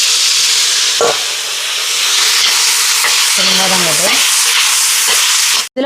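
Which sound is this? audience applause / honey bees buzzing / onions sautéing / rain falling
onions sautéing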